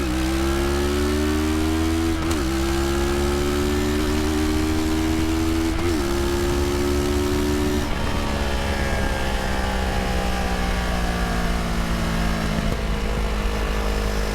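CFMoto 650 ADVentura motorcycle, a 2022 model, ridden on the road: a steady loud engine drone that climbs in pitch through each gear with short breaks at upshifts, wind noise underneath, no talking.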